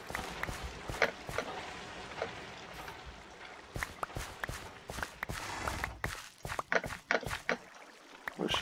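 A horse stomping through a video game world: soft, uneven hoof thuds that pick up and grow sharper near the end, over a quiet hissing background.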